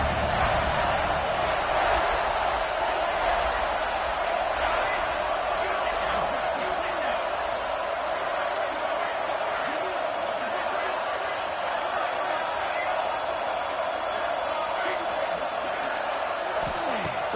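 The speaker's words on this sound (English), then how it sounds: "3rd down, and the crowd really getting into it." A stadium crowd roars steadily during a third-down play in a college football video game, a dense, constant wash of cheering that fills the whole stretch without pause.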